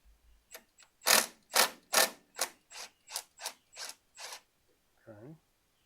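A ratchet with a thin-wall 1/2 inch socket clicks as it works a bolt loose on an old tractor, about a dozen loud, evenly paced ratcheting bursts up close, followed by a brief grunt of effort.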